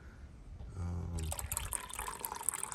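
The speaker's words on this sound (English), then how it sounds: "So let me just put some clear water." Clear water poured outdoors into a medaka ricefish container, starting with a brief low gurgle and then turning into a steady splashing trickle that carries on to the end.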